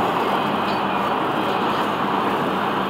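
Loud, steady rumbling roar of an FEC (Florida East Coast Railway) train passing close by, broadband and continuous with no break for the whole stretch.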